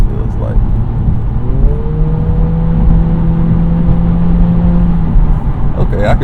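An Acura Integra with a CVT accelerating to pass, engine drone rising smoothly and holding a steady whine from inside the cabin, a voice talking briefly at the start and end.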